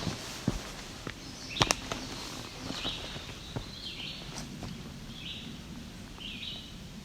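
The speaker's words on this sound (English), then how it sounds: "May have been the chestnut-side warbler singing again" A chestnut-sided warbler sings faint, short bright phrases from a distance in open juniper flats, repeating every second or so over a quiet outdoor hush with a few soft thumps nearby.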